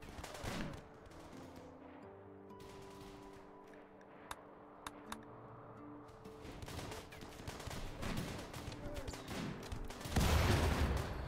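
Doomsday rocket launchers fire in a RimWorld colony battle: a dense run of gunfire-like pops, sharp cracks and rumbling booms, swelling into a loud explosive burst near the end.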